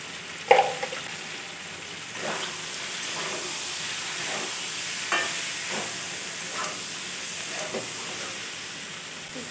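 Ground spices such as dry chilli powder, ginger paste and cumin powder fry with ridge gourd and prawns in a pan, giving a steady sizzle with scattered stirring scrapes, moderately close.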